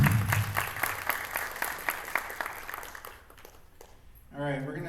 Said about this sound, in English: Yes, please give him a round of applause.